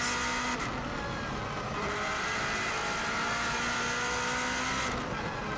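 A 2016 Subaru WRX STI driven flat out on the Isle of Man TT road course: a loud, steady engine drone at high speed with wind roar, and shifts in engine pitch near the start and end.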